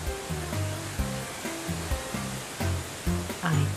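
Rushing water of a waterfall in a horror video game, a steady broadband roar under intermittent low tonal music swells and soft thuds.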